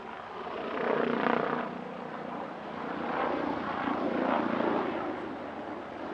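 An aerobatic helicopter at an airshow drones overhead with a steady engine roar and rotor whir, swelling louder and easing back as it passes at a moderate distance.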